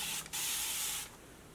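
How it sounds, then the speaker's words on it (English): A single quick hiss of a spray bottle misting water onto hair, a short burst lasting under a second, close and fairly soft, with no talking. "spray it with a little bit of water"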